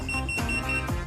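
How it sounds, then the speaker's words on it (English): A phone whose power ribbon cable is connected with reversed polarity short-circuits its boot line and emits a steady electronic beep tone, loud and continuous with no speech. "the boot line will short circuit and beep"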